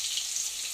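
Crushed garlic hits hot oil with a steady, soft hiss of frying, an even sizzle with no voices over it.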